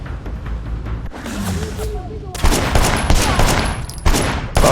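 Gunfire in Sleeping Dogs Definitive Edition, a video game: loud, close bursts of shots come in separate clusters over a few seconds, mixed with busy game sounds and some voice.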